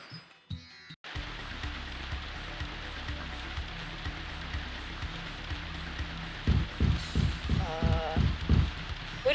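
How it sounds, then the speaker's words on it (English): Steady rain falls in the video game Grandia, a soft continuous hiss with a rhythm of low thuds, later joined by louder, quickly repeating pulses. "How did you not hear the rain?"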